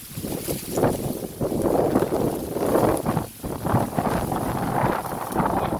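Strong wind buffets an outdoor microphone beside ponds where eels are hunted, roaring in loud uneven gusts that rise and fall for several seconds, with no one speaking.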